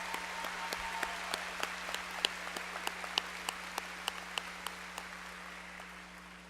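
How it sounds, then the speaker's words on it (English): A graduation audience at a high school ceremony gives a faint, sparse round of applause, with scattered individual claps ticking out at an uneven pace over a steady background hum. "Please join me in applauding these 2 students' achievements."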